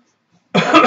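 One harsh cough bursts out close and loud after a moment of silence, following a throat-catching hit from a K1 DC RCS dual coil Nova vape.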